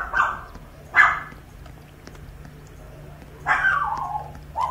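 A pet dog barks indoors close by, three or four loud, sharp barks in two bursts with a quiet gap between, over faint background game sound.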